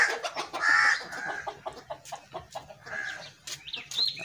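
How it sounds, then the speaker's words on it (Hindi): Hens cluck close by in a quick, uneven series of short calls, some rising into louder squawks, with no talking over them. "आ मुर्गियां जी इस दे पर खा गई"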